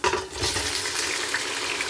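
Chicken pieces frying with browned onions for a white chicken pulao, a loud steady sizzle with stirring and scraping up close, no talk.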